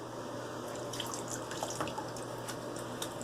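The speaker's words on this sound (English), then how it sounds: "I'm going to use some of the bloom water on the face" Bloom water from a shaving soap is splashed onto the face as a pre-shave, with continuous wet splashing and dripping sounds close to the microphone and no talk.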